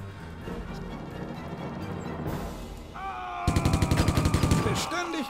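Rapid bursts of gunfire in the video game Silent Storm ring out in a steady automatic rhythm over a busy background of game sounds, loud and close.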